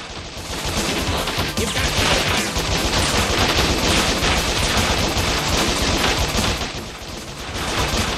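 Rapid, dense gunfire bursts from the video game Bot Vice, sustained and loud throughout with brief dips, and no speech.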